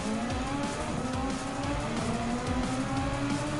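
Race car engine in Gran Turismo 7, a steady loud high-revving drone with rising and falling gear pitch as the car pushes through corners, continuous and close, with no talking.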